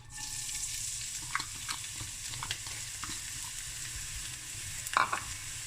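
Spring onion frying in olive oil in a pan, a soft continuous sizzle with a few light clicks and scrapes, and a sharper crackle near the end, with no talking.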